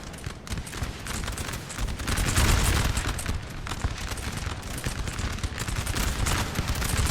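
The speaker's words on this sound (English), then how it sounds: "Look how fast they're firing." Massed musket volleys from a large Napoleonic battle at Wagram in Napoleon Total War, a continuous crackling roar of overlapping shots with distant booms, dense and sustained without pause.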